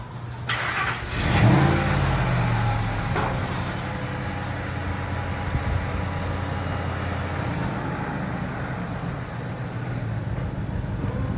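A supercharged Lightning engine swapped into a 4x4 Ford F-150 rumbles at a steady idle, with a brief rev surge early on and a constant mechanical whine over the low, continuous drone.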